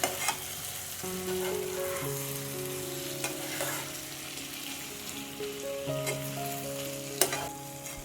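Dried bombil fish masala with raw mango pieces, Konkan style, stirred in a hot pan: steady dense sizzling with scraping strokes throughout and a few louder knocks, close up with no voices.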